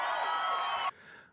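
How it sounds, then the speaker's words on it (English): A brief burst of audience cheering and whooping with some applause, loud and dense, cutting off abruptly after about a second and leaving a faint tail. "Everybody give her a round of applause."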